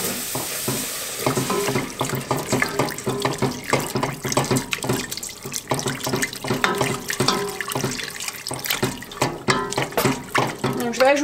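Water pours steadily into a pot of chicken stew as cooking liquid, a continuous splashing, running-water sound heard close up with clinks and kitchen noise mixed in.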